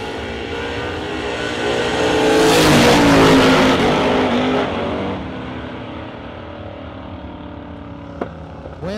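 A square-bodied pickup truck launching at a drag race shootout, its engine roaring up close, swelling loudly and then fading as it pulls away down the strip.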